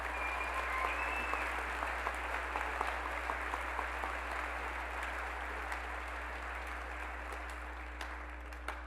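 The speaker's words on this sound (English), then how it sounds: "Would you all please welcome them with a round of applause?" Steady applause from a large crowd at a high school graduation ceremony, dense clapping that continues evenly throughout, heard from some distance in a big room.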